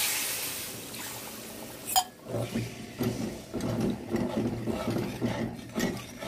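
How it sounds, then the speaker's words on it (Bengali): Water poured into a pan of well-cooked fish curry lands with a sharp splash, then a gurgling, bubbling simmer with rhythmic stirring scrapes follows, close and fairly loud. "এবার ঢালবো আমি জল।"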